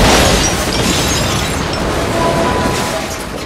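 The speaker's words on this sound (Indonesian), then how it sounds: "meskipun mereka berhasil selamat dari tembakan rudal, Baron sayangnya harus tewas dalam ledakan." A loud, sustained missile explosion in a film roars for several seconds, full of rumbling and crackling debris, then slowly starts to fade.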